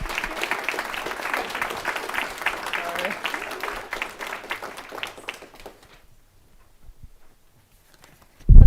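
Applause for students at a board of education evening meeting, many hands clapping in a steady patter for about five seconds before fading into near silence, ending with a sudden close thump.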